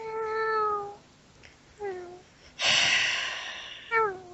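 A cat meows several times in a row: a long drawn-out cry, a short chirp, a breathy louder call and a final mew, close by and clear, with quiet gaps between the calls.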